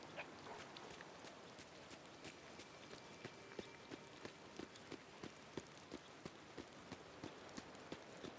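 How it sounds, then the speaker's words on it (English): Steady light rain patters in a video game, a soft continuous hiss dotted with sharper, evenly spaced drop taps, faint and alone with no talking. "This rain is not good for my spring breath"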